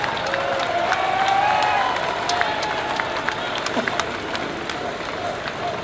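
A large outdoor rally crowd at a London freedom event cheers and claps, a broad wash of voices with scattered sharp claps and shouts, loud and close around the listener.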